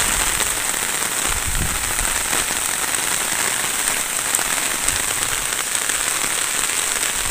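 Rain falls heavily nearby, a constant loud patter and hiss hammering a hard surface without letup.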